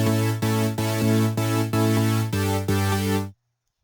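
Buzzy, distorted saw wave synth chords from a Spire synth with a sweeping phased texture, played in a steady series of sustained stabs before cutting off into silence.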